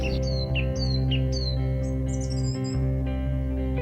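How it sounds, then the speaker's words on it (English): Birdsong in a quiet woodland: repeated bright chirps and short whistled phrases from several birds, moderately near, over a steady low background hum, with no talking. "Here, because it's quite quiet, you can actually hear the bird song."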